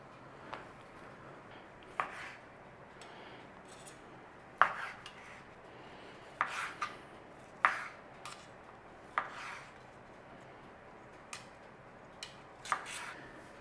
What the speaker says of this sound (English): Now we want to be cutting those sausages and returning them to here.